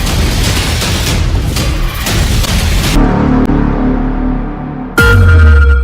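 An explosion in Moscow in news footage: noisy rumbling gives way to a quieter tail, then a loud deep boom bursts in near the end.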